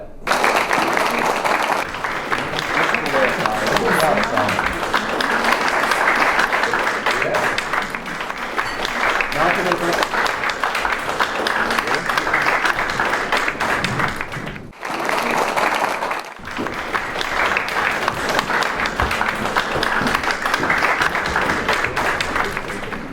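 Sustained applause for school teams at a quiz game fills a hall, dense steady clapping from many hands that briefly breaks and then resumes, with a voice faintly underneath.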